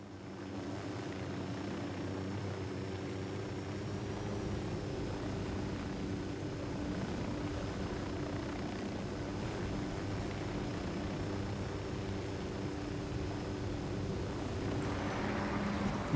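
A helicopter in the video game Ghost Recon Wildlands drones steadily with a low rotor and engine hum that fills the whole stretch at an even, moderate level, with no talk over it.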